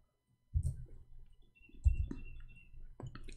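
Keyboard typing in short bursts of clicks, moderately close, with quiet gaps between bursts and a louder burst at the end.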